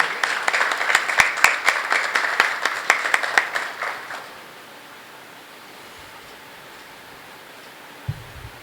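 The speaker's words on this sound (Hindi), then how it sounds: "जोरदार तालियों से स्वागत करिए।" An audience at a school theatre workshop claps to welcome a senior actor, a few seconds of lively applause that fades into quiet room tone, followed by a single thump near the end.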